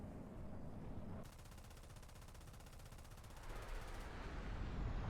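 Aircraft machine guns firing in War Thunder, a rapid steady buzzing burst of many guns lasting nearly three seconds over the engine drone, fairly quiet in the mix.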